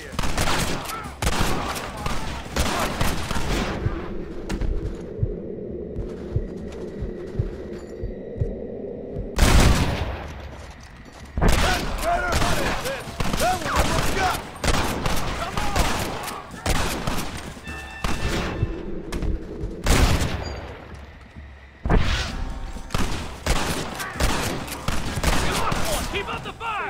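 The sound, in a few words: cover gunfire in the video game Red Dead Redemption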